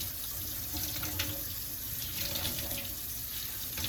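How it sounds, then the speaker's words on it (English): A kitchen tap runs steadily into a sink while tie-dyed clothes are rinsed, giving a continuous close splashing rush of water. "I want to be sure it's really rinsed."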